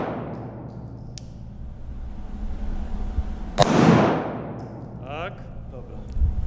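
A single sharp handgun shot cracks out at an indoor shooting range, followed by a brief echoing decay, with quiet background noise and faint voices around it.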